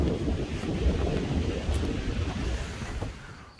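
Wind gusts steadily across a mountain overlook on a stormy day, a constant low rumbling roar buffeting the microphone with no break for the whole stretch.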